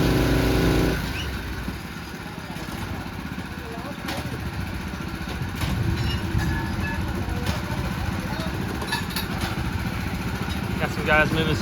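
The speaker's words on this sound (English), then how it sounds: "Just drilling down." A drill rig bores a bell-bottom pier hole for a foundation repair, giving a steady, fairly loud engine rumble and grinding drone that runs throughout with a few brief clanks.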